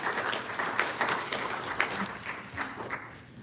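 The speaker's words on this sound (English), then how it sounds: "Please welcome him with a big round of applause" An audience applauds steadily in a hall during a talk welcoming a guest speaker from Fairfield, Iowa, a dense wash of clapping that holds level before easing off slightly toward the end.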